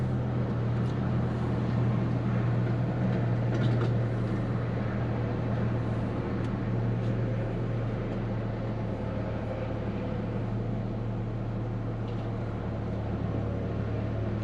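A BMW E60 M5 V10 runs on E85 fuel, a steady low engine drone and hum heard throughout with faint clicks on top and no speech.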